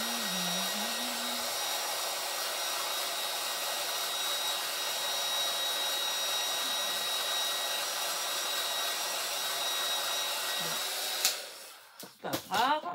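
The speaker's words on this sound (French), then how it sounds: "je vais faire du bruit, forcément, hein, parce que c'est avec le gun" A heat gun blows hot air over craft work, making a steady, even whoosh that runs for most of the time before cutting off, followed by a few brief handling sounds.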